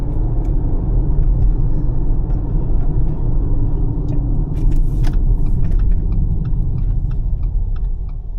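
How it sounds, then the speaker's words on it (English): A steady, loud low rumble of idling engines and road traffic surrounds a car waiting at a red light in rural Louisiana, with faint, quick ticking clicks scattered across the middle stretch. "But there's a lot of traffic."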